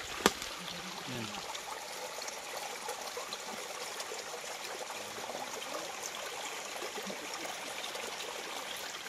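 A small river flows steadily outdoors, a continuous even rush and trickle of water heard close and unbroken, with a faint thump near the start.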